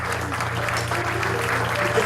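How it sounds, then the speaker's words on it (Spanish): Audience applause welcoming a doctor to the front of a church service, steady clapping from a crowd filling the room for a couple of seconds, with a low hum underneath and a voice faintly audible. "Dale un fuerte aplauso."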